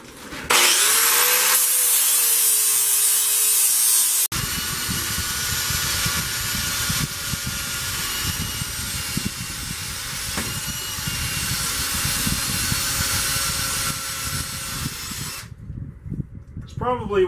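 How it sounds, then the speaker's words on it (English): A 40 grit interleaf flap disc on a power tool grinds down a knife blade in a continuous loud abrasive whine, close and steady for most of the stretch, then cutting off near the end. "interleaf flap disc where the sanding pad goes around the edge for cleaning up corners."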